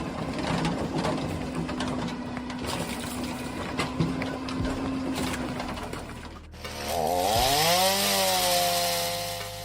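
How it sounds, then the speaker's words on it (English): A chainsaw mounted in a homemade automatic firewood processing machine runs steadily as it cuts logs, then its throttle kicks up into a loud rising whine near the end, with no voices. "The main component is a chainsaw with an intelligent mechanism that triggers the throttle when a log is placed for cutting."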